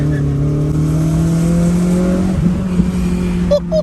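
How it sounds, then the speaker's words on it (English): A K24-swapped Acura RSX drives at night, its engine droning steadily with a rising whine as the turbo spools up. The sound is heard from inside the car, with brief thumps near the end. "You hear that turbo spooling up?"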